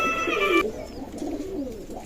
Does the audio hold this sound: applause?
no